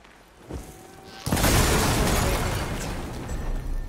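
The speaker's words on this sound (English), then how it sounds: "Just gotta shoot that blaze. Blow it sky high." A blaze canister is shot and explodes in Horizon Forbidden West, a short pop followed by a big roaring blast that rumbles and slowly fades, with no voices over it.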